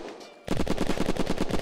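Rapid automatic gunfire from the Dragon Fang weapon in the video game Unturned, starting abruptly after a brief quiet moment and continuing as a steady, loud, fast string of shots close by.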